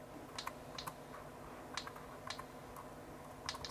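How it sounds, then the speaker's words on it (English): Typing on the small keyboard of an HP Jornada 680 handheld computer: light, irregular plastic key clicks in short bursts, close and fairly quiet over a steady low background hum. "So keyboard is working."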